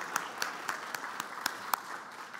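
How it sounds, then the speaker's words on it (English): Slow, evenly spaced clapping sounds over a faint background, roughly one clap every quarter second. "It's always important for you to applaud for my bosses."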